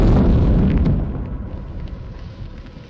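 A heavy, rumbling explosion from a HIMARS missile strike in a dense forest booms at the start, then slowly fades into a low, rolling roar.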